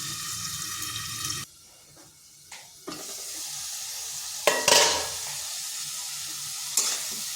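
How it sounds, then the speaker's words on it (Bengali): Ridge gourd stirred and fried in oil in a wok until reddish, giving a steady close sizzle broken by a brief quiet gap and sharp scraping bursts of the spatula, with no talking. "এইভাবে লাল লাল করে নেড়ে চেড়ে ভেজে নিয়েছি"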